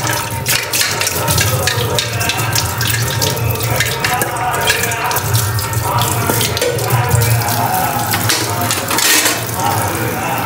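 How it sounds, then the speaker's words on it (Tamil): Water runs steadily from a tap into a sink while dishes are washed, a constant close rush of water with clinks and clatter of utensils and occasional voices underneath. "இங்கே போய் சாமான வாஷ் பண்ணலாம்"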